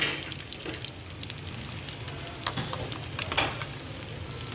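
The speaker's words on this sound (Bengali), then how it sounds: "এইভাবে তেল দিয়ে দিয়ে উপর থেকে এরকম তেল ছড়িয়ে দিয়ে দিয়ে জিনিসটাকে ভেজে নিতে হবে" Vegetable chops, Kolkata street-style, fry in oil over medium flame with a steady close sizzle and crackle, and a few brighter spatters as oil is spooned over them.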